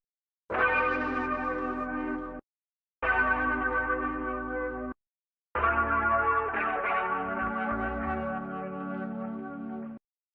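A sampled guitar part from a disco song intro rings out in three sustained, bell-like chords separated by short silences, the last one held longest and ringing with a chorused, echoing shimmer; no one speaks.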